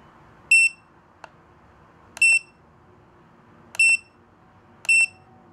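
A NUCTEST F6000 radiation dosimeter sounds its alarm in four short, shrill electronic beep bursts spaced about a second and a half apart, clear and close over a quiet background with one faint click between.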